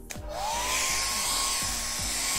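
A blow dryer used for painting whirs loudly and steadily after a brief start-up, a constant airy hum running without pause, with faint rhythmic tapping sounds underneath.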